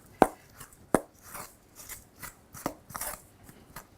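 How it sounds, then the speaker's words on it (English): A spoon stirs nutritional yeast and Himalayan smoked salt in a bowl, giving a few sharp clinks and scrapes spaced irregularly with softer rubbing between, close and fairly quiet. "actually I'll give that a quick stir."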